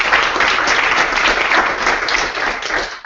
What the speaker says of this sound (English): maybe we should give a round of applause